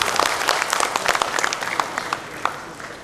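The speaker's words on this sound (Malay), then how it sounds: "kita berikan tepukan yang cukup berhormat kepada Dr. Hamzah" An official gathering in a hall breaks into a short round of applause, with distinct individual claps standing out in a busy, irregular patter that thins slightly toward the end.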